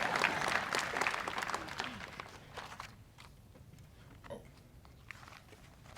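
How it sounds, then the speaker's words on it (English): A graduation audience applauds at a high school ceremony. The clapping is strong and dense at first, then thins out into scattered claps and room noise. "you guys should probably clap for yourselves."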